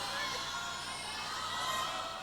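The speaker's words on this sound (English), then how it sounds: "the crowd was roaring throughout" Crowd at the 2001 World Gymnastics Championships team final, a dense, steady roar of cheering and shouting that fills the whole short stretch.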